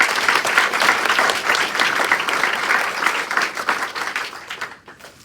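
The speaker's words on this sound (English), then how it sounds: "So y'all give Rose a warm welcome." Audience at a Saline County Republican Committee meeting applauds to welcome a speaker, a dense, steady wave of clapping filling the room that tapers off near the end.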